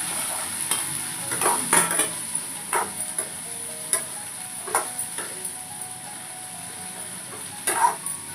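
Okra (bhindi) frying in a pan and being stirred, with repeated scraping strokes over a steady sizzle.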